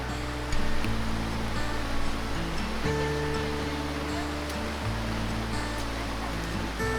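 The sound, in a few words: walking up a river with feet in the water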